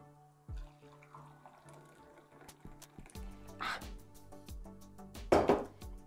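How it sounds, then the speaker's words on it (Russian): Herbal tea pours into a cup in a few short splashing bursts, quiet and close, with faint clinks of tableware around it. "И вот так вот наливаем чай"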